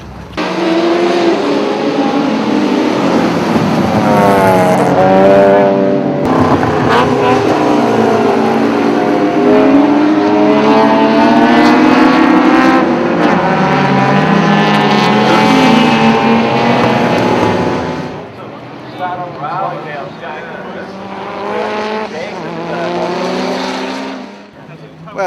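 Loud roaring race car engines, including old star cars, howl past continuously at Manfield, pitch rising and falling, then the noise drops and fades toward the end.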